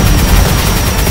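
Rapid barrage of missiles fired by a large Titan tank in a Minecraft-style tank battle game, a dense, loud continuous roar of overlapping booms and blasts lasting about a second with no pauses.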